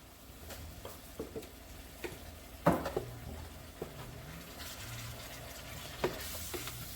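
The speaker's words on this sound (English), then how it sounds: "You just let them simmer a little bit." Food simmering gently in a pan with butter and salt, a soft steady sizzle broken by a few light clinks and stirring taps, fairly quiet with no talk.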